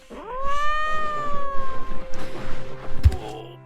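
Cat meowing when petted in the video game My Time At Portia, one long loud drawn-out meow, followed by softer game sounds and a brief thump.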